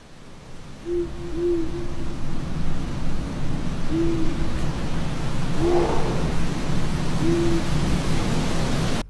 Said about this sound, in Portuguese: a gente consegue escutar um pouco o barulho do vento e também o canto de uma coruja